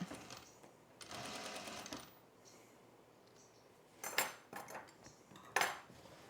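Sewing machine stitching a flat-fell seam on a garment, two short bursts of rapid mechanical whirring separated by a pause, followed by sharp metallic clinks and clatters nearby.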